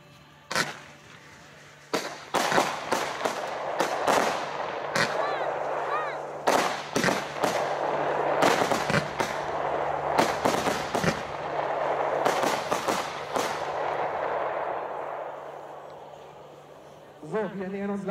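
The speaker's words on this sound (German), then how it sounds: "unsere Batterie Cosmos, eine 36 Schuss Fächerbatterie, 197 Gramm NEM im Kaliber 18 mm" A Cosmos 36-shot fan firework battery in 18 mm calibre fires at a New Year's Eve pre-show, sharp loud bursts in rapid irregular succession with crackling between, then a short pause and a final crackle.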